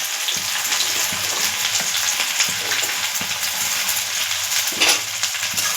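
Chopped onions hit hot mustard oil in a wok, giving a loud, dense, continuous sizzle with light crackling and a faint stir scrape near the end, close up with no talking.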